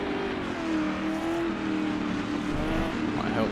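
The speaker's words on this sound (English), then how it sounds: "Downshifted a bit early there." A Ford GT40 engine in the racing game Assetto Corsa drones loudly and continuously around the Le Mans circuit, with pitch shifts as it downshifts and a brief rising rev near the end.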